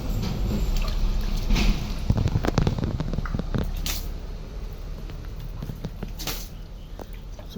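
Plants being watered by hand from a bucket of water, a close splashing and pattering pour with irregular drips and gurgles that eases off toward a softer trickle.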